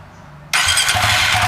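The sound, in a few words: Suzuki FU 150 fuel-injected motorcycle engine starting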